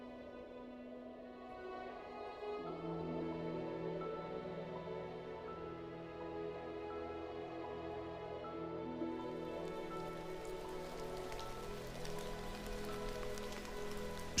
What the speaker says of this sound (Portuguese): Chove durante vários dias neste maciço de serras calcárias.